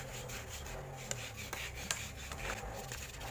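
Repeated close-up rasping strokes of 1,000-grit sandpaper rubbing against the metal rotor of an electric fan in a steady back-and-forth rhythm.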